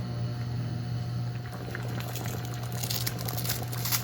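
Thick spaghetti sauce bubbling strongly in a pot, a soft continuous simmer with scattered pops and spatters over a low steady hum, close and fairly quiet.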